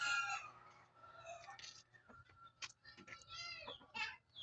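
Labuyo junglefowl close by, clucking and calling in bursts with a brief crow, fairly faint and without talking.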